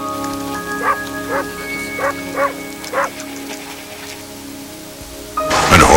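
A dog in Ireland barks about six times in a steady, evenly spaced rhythm at moderate distance, followed by a sudden burst of broad noise at the end.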